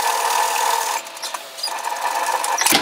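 A home sewing machine stitches through a bulky apron dress patch pocket with a steady, strained whir that dips briefly midway, then picks back up and ends in a sharp clatter.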